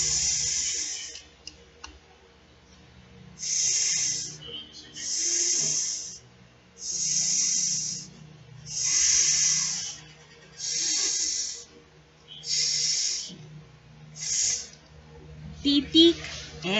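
A voice imitates a snake's hiss as a letter S sound, producing about eight sustained hissing bursts in a steady rhythm with short gaps between them, close and fairly loud, with brief faint voice sounds near the end.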